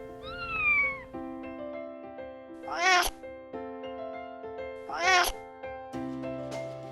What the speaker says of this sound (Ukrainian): Кошеня китен, Кошеня китен.